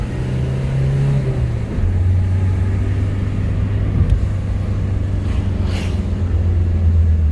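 A non-turbo Renault Clio 1 Chipie drops into second gear, its engine note shifting lower before pulling steadily as the car accelerates, heard close from inside the cabin with a continuous rumbling drone.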